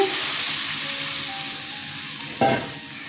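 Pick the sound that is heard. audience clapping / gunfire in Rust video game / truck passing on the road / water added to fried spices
water added to fried spices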